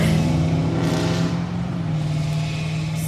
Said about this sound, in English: I'm sorry for the loud car noise over there.